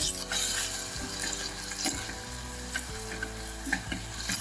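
Radish leaves sautéing in a pan over a high flame, a steady loud sizzle broken by the scrape and clatter of stirring at roughly one-second intervals, close up with no voices.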